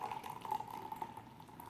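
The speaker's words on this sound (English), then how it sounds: "And then you pour near boiling water" Near-boiling water pours softly and steadily into a French press mug over coffee grounds, sweetener and creamer, making a faint, continuous trickling fill sound with no voices.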